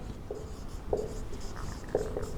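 A pen writing on paper while working a Class 10 quadratic equations problem: soft, close scratching strokes with a few brief taps, faint and without talking.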